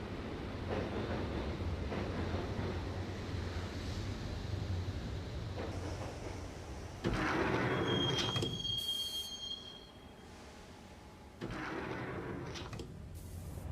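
A subway train rolls along in the Max Payne video game, its carriage rumbling steadily, with a thin metallic squeal rising over the clatter midway and the noise dropping and returning as it runs on.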